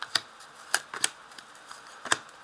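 Tarot cards are shuffled and laid out on a table as a few sharp, quiet clicks and snaps spaced irregularly, close by, with soft rustling between them.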